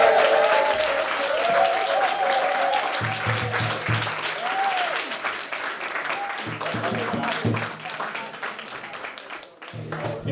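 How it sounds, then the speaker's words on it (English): Steady audience applause at a poetry slam in Leeds in 2018, a thick wash of clapping that lasts about ten seconds while a voice talks over it. "Round of applause."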